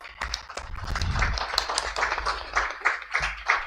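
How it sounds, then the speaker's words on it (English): A crowd claps together in a dense, steady burst of applause that carries on throughout with no talking over it. "So round of applause for everyone,"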